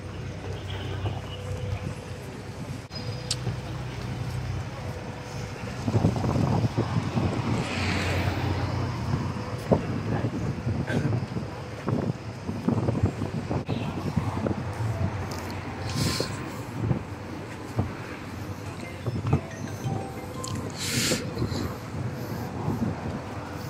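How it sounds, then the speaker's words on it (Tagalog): Steady cold wind blows and buffets the microphone in Shanghai's business district, a continuous rushing with occasional gusts and faint background activity, no talking. "Sarap ng hangin maginaw."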